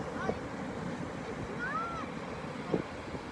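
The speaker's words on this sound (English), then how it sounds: "It's that northeast wind, I think, is making the waves come in like that." Ocean surf rolls in on a northeast wind at a beach at sunrise, a steady broadband wash of waves with wind rumble against the microphone, while voices talk over it.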